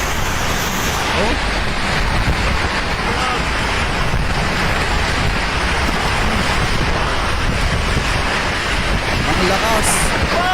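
Strong wind roars steadily against the microphone of a motorcycle rider for about ten seconds, a loud, unbroken rushing buffet that never lets up, with a voice speaking faintly under it.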